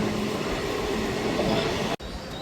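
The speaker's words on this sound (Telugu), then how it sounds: "తాడేపల్లిగూడెం రైల్వే స్టేషన్ నుంచి మన ట్రైన్ అయితే వచ్చింది మళ్ళీ బయలుదేరిపోతుంది" A MEMU passenger train pulls out of Tadepalligudem station, its steady rolling rumble and wheel noise filling the whole stretch, broken by one brief dropout near the end.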